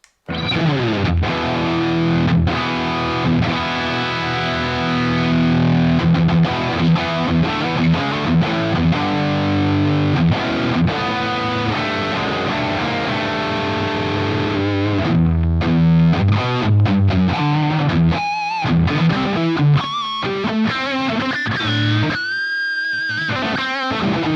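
A USA PRS Custom 24 electric guitar with 10-Top pickups and a 5-way switch plays through heavy distortion, with loud, continuous chugging riffs and sustained chords, then a short break and a few bright ringing notes near the end.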